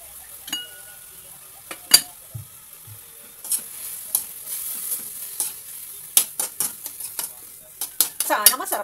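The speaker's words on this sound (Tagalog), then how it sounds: "Nilagay ko sa low heat para medyo maluto man siya." Edible fern cooks in a pan over low heat, with a soft steady sizzle under intermittent clinks and scrapes of a utensil stirring against the pan, the stirring growing busier toward the end.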